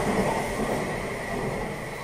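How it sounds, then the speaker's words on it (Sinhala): A train passes with a loud, continuous rumble and a steady rolling roar of wagons, close by and uninterrupted for its brief length, with no voices over it. "ට්‍රේන් එකක්"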